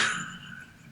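A brief, bright comedic sound effect from the video game We Love Katamari, a quick twangy chime that fades out within a second.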